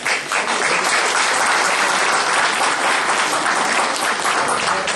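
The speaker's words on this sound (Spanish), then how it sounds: "a quien recibimos con un fuerte aplauso" A lecture audience gives a welcoming round of applause for a university professor, loud, dense and steady clapping filling the room from start to finish.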